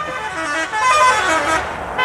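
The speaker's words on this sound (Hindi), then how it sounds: "मुझे देख के मुद्दाम हॉर्न मारला ना तू" A vehicle horn honks, a sustained toot rising out of road traffic noise, fairly loud and close.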